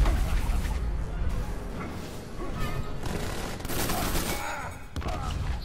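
Deathstroke fires guns in a fighting video game, a loud, rapid volley of overlapping shots with booming impacts that runs almost continuously.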